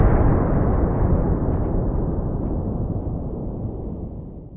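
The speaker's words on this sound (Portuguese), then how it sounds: "uma explosão ocorreu, abalando todo o trem" A massive explosion shakes a train, a heavy, loud, deep rumbling roar that starts at full force and slowly fades over several seconds.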